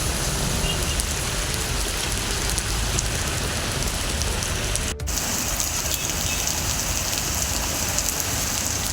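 Moderate rain falling steadily, a dense continuous patter of drops on surfaces with a brief dropout partway through, no voices.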